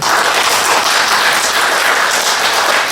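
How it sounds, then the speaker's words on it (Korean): Church congregation applauding together during a Sunday morning worship service, a dense, steady burst of many hands clapping at close range, with no voices over it. "수고한 우리 여전도를 위해서 박수."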